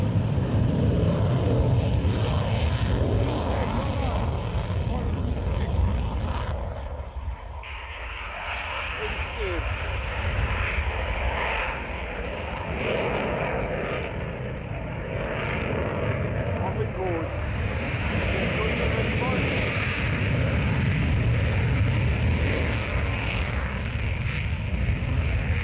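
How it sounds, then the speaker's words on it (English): Eurofighter jets with afterburners lit roar past in a sustained, loud, broadband rush that swells and holds, with voices talking over the thunder. "Afterburners, absolutely fantastic."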